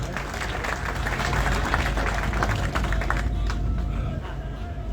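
A crowd at an Anand Congress election rally applauds to welcome a party leader, with steady, dense clapping sustained throughout and a voice talking over it.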